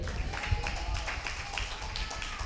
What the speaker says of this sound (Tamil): கைத்தட்டி அப்பாவுக்கு மகிமை செலுத்துங்க.